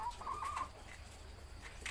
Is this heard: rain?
no